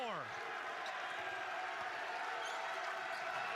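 Basketball arena crowd at a college game between San Jose State and North Dakota State, a sustained loud roar of cheering fans under a commentator talking throughout.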